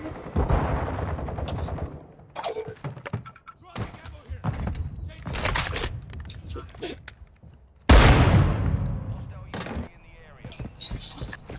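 Gunfire rings out in a video game shootout involving a sniper, with sharp, loud reports and mechanical clatter breaking up stretches of quieter sound, among them one especially heavy blast partway through.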